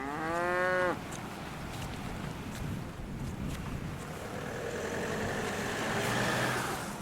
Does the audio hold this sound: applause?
no